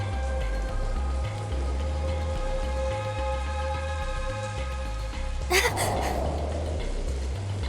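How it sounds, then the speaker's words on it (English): Steady rain falling in the video game Soul Hackers 2, a continuous even hiss with soft pattering behind a sustained musical tone, broken near the end by a brief sharp burst. "Just started raining over here."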